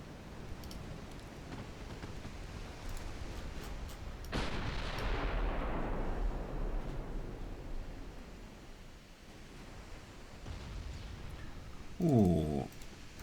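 A torpedo strikes a ship in a naval video game, producing a sudden broad blast that rumbles and fades over a few seconds against quiet background noise; a brief voice is heard near the end.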